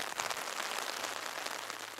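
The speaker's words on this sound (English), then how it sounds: "it's pouring down with rain and we're still cleaning" Heavy rain pours down outdoors, a dense, steady hiss of drops on surfaces with scattered louder spatters, filling the scene without speech.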